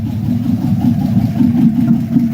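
A truck engine with no exhaust fitted runs loud and steady in a garage, a rough continuous low rumble holding at a constant idle with no talk over it.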